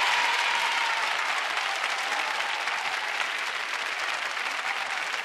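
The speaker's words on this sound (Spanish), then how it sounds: "La ovación preciosa la están recibiendo también de Sabiñánigo." Crowd in the stands at a 1996 Grand Prix del verano town contest, Sabiñánigo against Jarandilla de la Vera, gives a standing ovation: sustained, dense applause heard from a distance, steady for the whole stretch.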